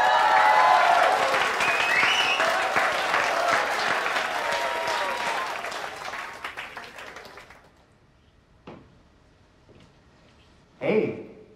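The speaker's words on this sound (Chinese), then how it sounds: "掌声不够热烈" Audience at a nightclub event breaking into loud, dense applause that gradually fades away, followed by a few isolated claps and short sounds in near silence.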